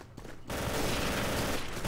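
Sustained machine gun fire from a mounted MG in the World War II shooter Day of Defeat, a dense loud continuous burst starting abruptly after a brief quieter moment and running to the end.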